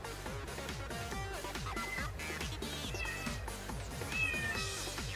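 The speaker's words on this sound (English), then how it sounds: "Oh my goodness, my cat's going crazy" A pet cat meows excitedly and repeatedly, sharp wavering cries scattered across the clip over a layered background of music and game sounds.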